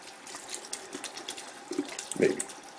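Running water pours from a tap in short irregular bursts, splashing into a container, nearby and alone.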